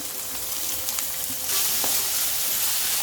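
Chopped bell pepper and onion added to a hot pan of lightly cooked carrot over high heat for fried rice: a constant crackling sizzle that swells louder partway through.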